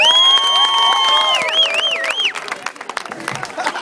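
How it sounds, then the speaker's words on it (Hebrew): Audience applause and cheering at a live concert, with loud whoops and shouted voices rising over the crowd at first, then scattered clapping continuing as the noise settles. "תנו לה כפיים חזק"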